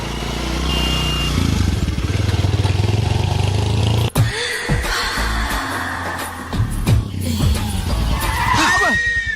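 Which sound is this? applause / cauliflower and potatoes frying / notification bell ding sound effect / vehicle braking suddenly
vehicle braking suddenly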